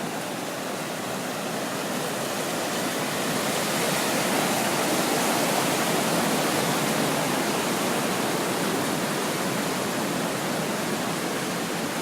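The Deschutes River rushes steadily, a loud, constant broadband roar of flowing water close at hand with no breaks and no voices.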